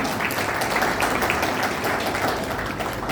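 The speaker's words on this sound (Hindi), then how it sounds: "सुरभि के लिए एक बार फिर से जोरदार तालियां।" Audience applause at a Junior Arya Samaj kids programme, a steady dense wash of clapping held at even loudness throughout, fairly close and without pause.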